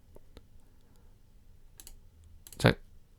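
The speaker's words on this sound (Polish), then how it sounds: "Czyli musisz znowu tutaj kliknąć" A computer mouse clicks during photo editing in Luminar Neo: a few faint, sparse clicks, then one louder, sharper click near the end, with no talking.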